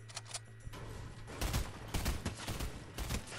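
Rapid bursts of gunfire in the video game Fortnite during an arena trio match, a few loud close volleys over a steady game background hum.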